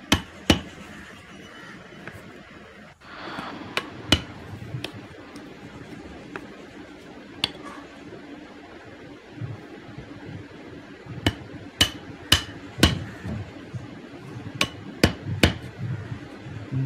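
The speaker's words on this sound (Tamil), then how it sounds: "கொஞ்சம் கொஞ்சமாக அடித்து பழகி கற்றுக்கிட்டிங்கன்னா சுத்தமாக துளை அடிக்கலாம்." Hammer striking a chisel to cut a hole in wood during carpentry, sharp, close, irregular knocks in scattered single hits and short clusters over a low background hum.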